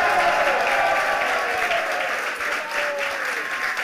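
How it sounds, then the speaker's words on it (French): Sustained crowd applause fills a French political rally, dense and steady throughout, with a voice faintly audible beneath the clapping. "Je veux que nous applaudissions ensemble Marion Maréchal et ses courageux colistiers."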